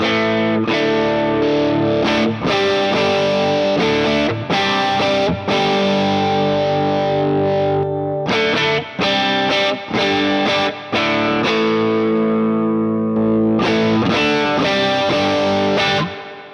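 Electric guitar played through a Dynastar Aileron low-profile tube amplifier with the shape 2 filter engaged, loud distorted chords struck and held with short pauses between them, no talking.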